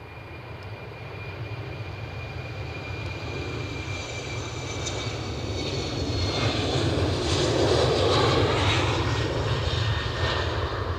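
An Embraer airliner lands at Edinburgh Airport. A sustained engine roar swells slowly and peaks toward the end, with whining tones shifting through it and no talking.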